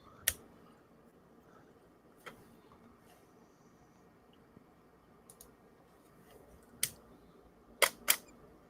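A camera's lens motor whirs and clicks in quiet, with a handful of sharp mechanical ticks and brief buzzing bursts scattered at uneven intervals over a faint background hum.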